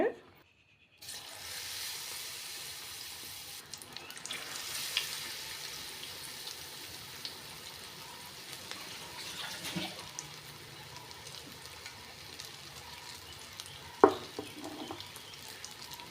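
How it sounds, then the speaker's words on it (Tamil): Chili bajji fritters in batter frying in hot oil, a steady close sizzle and bubbling that runs throughout with a few clinks and a sharp knock near the end, with a voice talking over it. "இப்போ பஜ்ஜி நல்லா பொரிஞ்சிட்டு இப்போ எடுத்துடலாம் அடுத்து நம்ம மிளகா எடுத்தோம்ல மிளகா பஜ்ஜி ஆட் பண்ணிக்கோங்க"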